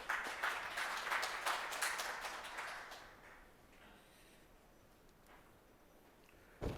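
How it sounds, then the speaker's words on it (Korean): An audience at a 2021 foundation report event applauds to welcome a speaker, with lively clapping for about three seconds that then fades into quiet room tone. "큰 박수로 맞이해 주십시오."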